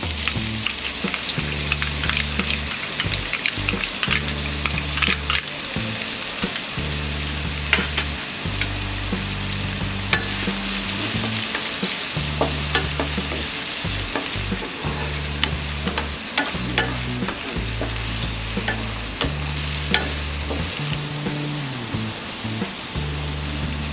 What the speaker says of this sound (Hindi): गार्लिक का कच्चापन जाने तक हम इसे फ्राई करेंगे। इसमें डालेंगे ये अनियन,